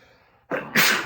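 A single close, loud sneeze bursts out after a brief quiet moment, with a sharp intake followed by a forceful explosive release.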